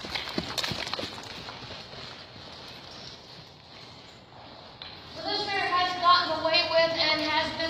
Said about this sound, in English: No, I don't mind if this mare trots fast.